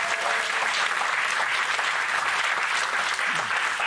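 A television studio audience on a French talk show breaks into loud, sustained applause, many hands clapping steadily and close for several seconds.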